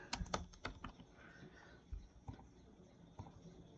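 Fingers tap a computer keyboard in short quick bursts of clicks, with a few isolated keystrokes and pauses between them, close and quiet in a still room.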